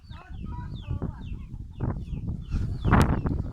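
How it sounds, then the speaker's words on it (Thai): Many chickens on a farm cluck and chatter close by in a busy, overlapping flock, with short rising calls over steady scratching and rustling, growing louder toward the end. "ไก่เยอะนะเนี่ย"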